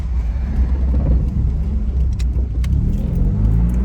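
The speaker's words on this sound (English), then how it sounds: "Idling right at 800 RPMs, nice and smooth." A first-generation DSM non-turbo car engine idles steadily at about 800 RPM, a smooth, continuous low rumble heard up close with no talking.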